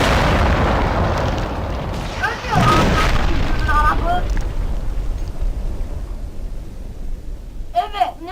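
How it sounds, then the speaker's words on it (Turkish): A loud explosion in Minecraft booms and rumbles, then slowly fades away, with shouted voices over it and a few sharp electronic chirps. "Dostum burada çok büyük bir patlama olmuş"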